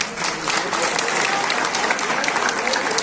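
Applause from a crowd at a Samajwadi Party workers' conference in Kiratpur, a steady dense patter of clapping filling the space with faint voices mixed in.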